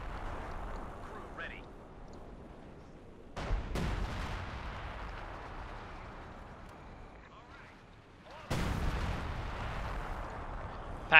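Pack howitzer artillery fires in Company of Heroes 2, with two sharp booming blasts several seconds apart over battlefield ambience while a commentator talks.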